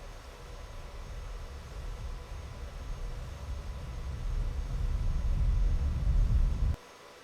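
An F-16 jet taking off in the flight simulator Falcon BMS, a low engine rumble building steadily louder for several seconds before cutting off abruptly, with no voices.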